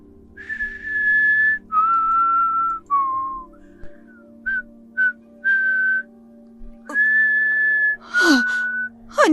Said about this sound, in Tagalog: Naririnig mo ba yun, Uro? May sumisipol!